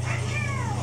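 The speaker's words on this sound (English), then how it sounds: "That was my cat." A pet cat gives one short, clear meow, close and moderately loud, with a faint indoor background hum.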